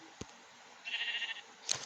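A short electronic-sounding sheep bleat from a Minecraft one-block skyblock game wavers for about half a second, with a soft click before it and another brief burst after, over a quiet hum.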